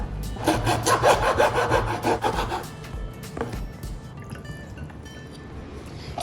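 Country chicken being chopped up for Chettinad chicken curry, with a fast run of rhythmic scraping, sawing-like cuts that slow into a few scattered knocks and then fade into quiet.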